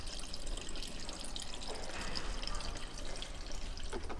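Deionized water pours into the cooling system of a Yamaha R1 race bike, a soft continuous trickle and gurgle heard close up but at low level for about four seconds.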